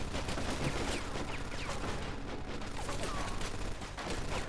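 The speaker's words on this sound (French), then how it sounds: "on dirait qu'on a retrouvé la mitrailleuse" Machine gun fire in the video game Mafia 2, a dense continuous barrage of rapid gunshots filling the whole stretch at high level, with a voice speaking faintly underneath.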